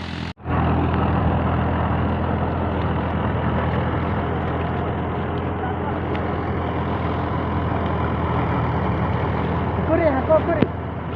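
A tractor engine runs in a steady, loud, continuous drone from start to finish after a brief opening click, with no clear voices over the rumble.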